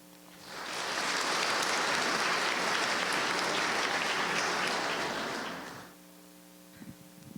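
An audience at a China–US intellectual property and brand forum breaks into loud, sustained applause that swells quickly. It holds for about five seconds, then cuts off, leaving a quiet room hum with faint stirrings.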